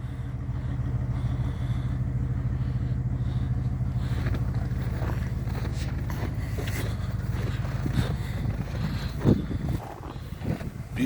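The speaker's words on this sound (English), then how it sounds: "This is a 1988 Mack with a 350 plus in it with a 15 speed" A 1988 Mack truck with a 350 plus engine and a 15 speed runs at a steady low diesel rumble nearby, with some mechanical clunks and knocks toward the end.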